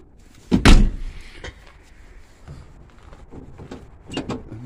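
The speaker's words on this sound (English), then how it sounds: "The door don't slide anymore." The worn sliding door of a Nissan Quest van in a junkyard is handled, giving one loud thud or clunk followed by quieter rattles and knocks.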